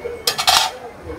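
Metal cookware clanks together at a busy exhibition stall, a quick pair of bright clattering knocks from triply and iron pans and a kadhai being handled up close, over faint background murmur.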